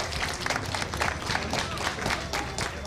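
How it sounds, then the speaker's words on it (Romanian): Young Roma students clap in Piața Unirii, an open city square, in a close, brisk, continuous round of applause with distinct individual claps over a busy crowd backdrop. "au aplaudat pe toți cei care nu i-au ocolit și au traversat împreună acest spațiu"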